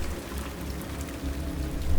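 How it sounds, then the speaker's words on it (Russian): Heavy rain falls at a house as a dense, steady hiss of drops and splashing, with no talk and only slight swells in loudness. "Идет сильный дождь."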